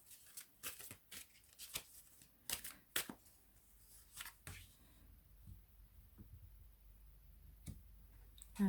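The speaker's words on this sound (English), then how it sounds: "Let's just place all the cards." Tarot cards being laid out one by one on a table, heard as a series of soft, close taps and slaps, faster at first and then more sparse, with no talking.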